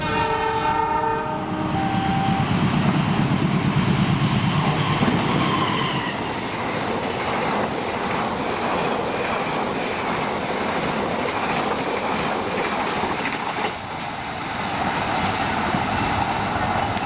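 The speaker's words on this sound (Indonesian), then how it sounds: "Barusan kereta api Argo Parayangan 41B." The Argo Parahyangan passenger train sounds its horn with several blasts, then rumbles past with steady rolling wheel noise and clatter, loud and close.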